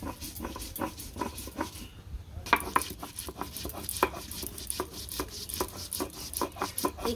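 Spices such as ginger, cumin, coriander and garlic being ground by hand on a grinding stone, heard as a repeated rhythmic rubbing and knocking close by, with a brief pause early on and no talking.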